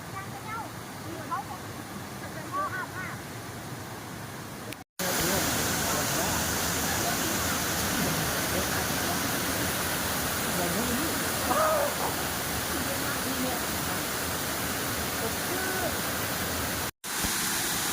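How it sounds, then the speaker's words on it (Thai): Huai Mae Khamin waterfall in Kanchanaburi, Thailand rushes in a steady, loud wash of noise that continues without letting up, with one brief cut partway through. "น้ำตกสวยๆครับพี่น้อง"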